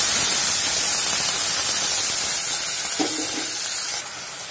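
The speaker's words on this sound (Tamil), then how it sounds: "இப்போ பாருங்க ஊத்துன தண்ணி கொதிச்சிருச்சு" Water boiling in a pan with onions while curd rice is being made, a steady broad hiss and bubbling that runs loud and unbroken, with a brief clatter near the end.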